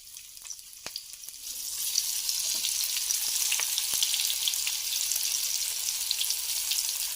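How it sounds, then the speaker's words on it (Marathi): Semolina-coated bangda mackerel fry in a pan with a steady, close sizzle that swells after the first couple of seconds, broken by scattered sharp pops and spatters, and no voices. "चार बांगडे तर मस्तपैकी फ्राय करूया"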